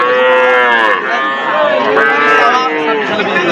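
Young heifer calves moo loudly and repeatedly at a busy cattle market at Aftabganj Hat in Nabobganj, Dinajpur, with overlapping drawn-out calls close by and little pause between them.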